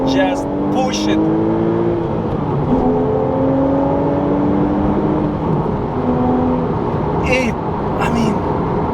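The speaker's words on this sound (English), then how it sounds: "I don't know whether I can, you know, transfer the sound of this car." A Porsche Cayman S (987) sports car engine drones and climbs in pitch as it accelerates, the revs rising and shifting in smooth steps, heard from inside the car.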